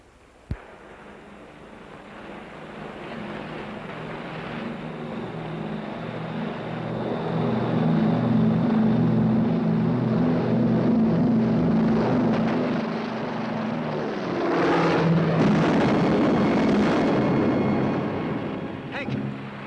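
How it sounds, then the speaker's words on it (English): Aircraft engine roaring steadily during an airplane takeoff in a classic horror film, a droning hum that swells and grows louder, then rises in a second loud surge toward the end. "Come on, we'll miss the takeoff."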